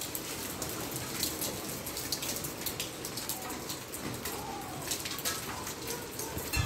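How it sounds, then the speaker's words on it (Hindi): Heavy rain pours steadily in a dense, continuous hiss with scattered drop impacts, and a bird calls faintly in the background. "बारिश बहुत तेज बारिश आ रही है"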